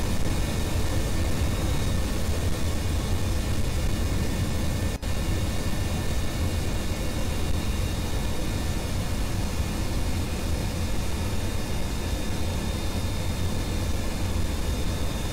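Rocket engine throttling up in Kerbal Space Program, a loud, steady broadband roar that holds constant throughout with no talk.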